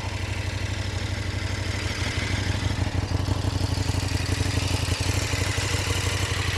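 A 2021 KTM 1290 Super Duke R engine idles just after start-up: a loud, close, steady throb with a rough pulsing rhythm that runs the whole time with no talking.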